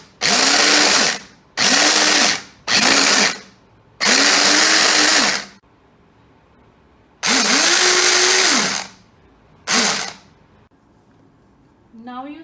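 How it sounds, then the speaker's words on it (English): A Philips HR1351/90 250W hand blender purees tomatoes in repeated loud bursts of motor whine, several short pulses and longer runs separated by silent pauses, with the pitch rising as each burst spins up. "Now we will show you a demo of how to blend tomato puree. So you press the push button."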